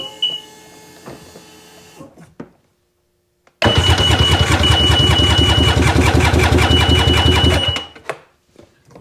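A Seadoo XP DI jet ski engine cranks in drown mode: after a few clicks and a silent pause, a loud, fast, rhythmic starter churn runs for about four seconds, then cuts off.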